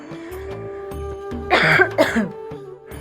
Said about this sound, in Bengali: একটু কাশি হয়ে গেল